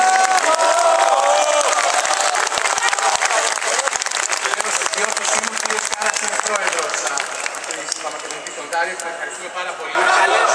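A large crowd at a 2018 rally in Athens about Macedonia applauds together in loud, sustained, dense clapping with cheering mixed in, easing slightly near the end before swelling again.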